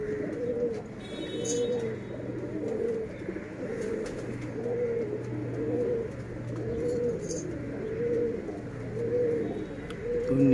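High-quality Khaure pigeons in a loft coo in a steady, rhythmic loop. Soft repeated throaty calls recur every second or so over a low background hum, with no talking.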